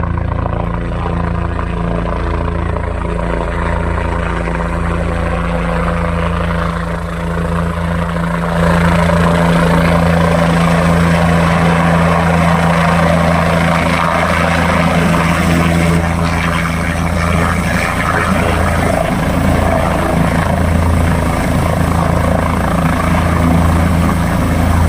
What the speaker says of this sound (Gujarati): અત્યારે હેલિકોપ્ટર આવી રહ્યું છે અને થોડી જ વારમાં હેલિપેડ ઉપર